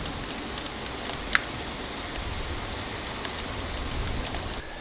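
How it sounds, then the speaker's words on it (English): Rain falls steadily outdoors as a dense, even patter that lasts the whole stretch, with one sharp click early on and no voices. "it's raining, which I think is gonna cool everything off"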